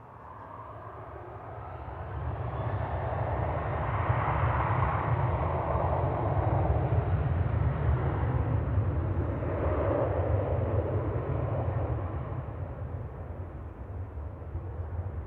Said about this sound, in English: That's a 737-800 9HQBJ.